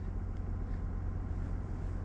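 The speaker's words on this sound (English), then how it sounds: "We're warming the truck up." A truck engine idling while warming up on a cold night of fishing, a steady low rumble that stays even and continuous throughout, with no talking over it.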